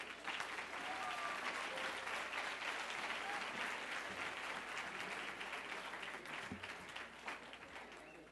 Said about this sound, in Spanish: Un aplauso adicional, por favor.